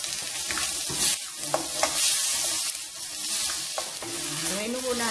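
Shrimp fry and sizzle in a little olive oil while being stirred, a continuous close hiss broken by scraping stir strokes and a few clinks.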